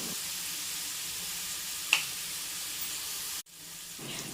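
Star fruit pieces salted for pickle fry and soften in oil, giving a soft continuous sizzle with a brief scrape of stirring partway through and a short cut near the end.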